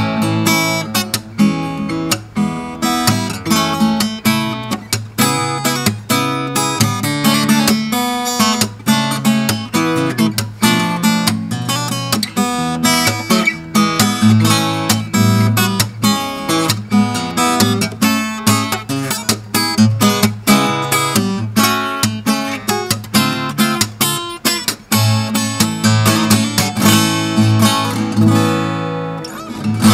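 A LAG T70A acoustic guitar is played fingerstyle, with steady plucked notes and chords ringing continuously for thirty seconds, close, full and loud, with no voices.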